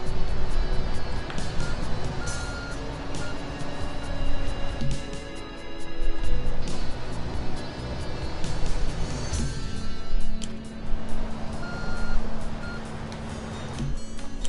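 A construction truck reversing in Construction Simulator 2 gives steady repeated backup beeps over engine rumble and other game noise across the whole stretch.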